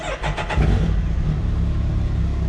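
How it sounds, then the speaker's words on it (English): A Can-Am Maverick X3 side-by-side engine cranks with a few quick rapid starter pulses, then catches and settles into a loud, steady rumbling idle close by. "Now we want to start the car"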